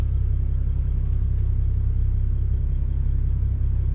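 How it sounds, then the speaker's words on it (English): A car's exhaust vibrating against an underbody connecting bracket while driving gives a steady low rumbling drone of engine and road noise throughout, dense and continuous with no speech. "Got a little bit of a vibration. It sounds like it might be like the exhaust."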